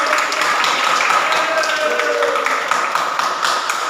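Students in a classroom clap together for a classmate, a dense, steady patter of many hands lasting several seconds, with some voices mixed in underneath.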